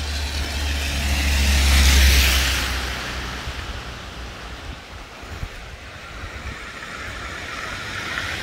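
Heavy vehicles rumble past over a river bridge in a Norwegian town centre in March, a broad roaring swell that peaks loudly then eases into steady traffic and wind noise.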